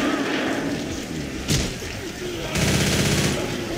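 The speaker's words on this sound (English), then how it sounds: "Can you stop shooting me?" Loud, dense gunfire fills a Left 4 Dead 2 session on the Hard Rain campaign at expert difficulty, with sustained automatic shooting and heavier thumping bursts right up close.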